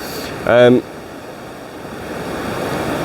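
Sea waves wash onto a Welsh beach as a continuous broadband surge of surf with wind, and a brief tonal sound cuts in near the start.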